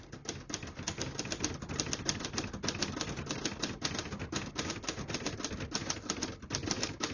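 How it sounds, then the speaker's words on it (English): Typing on a 1970 Hermes 3000 portable typewriter: a rapid, continuous patter of crisp keystrokes and typebar strikes, close up and fairly quiet, with no voices. "Beautiful typing machine."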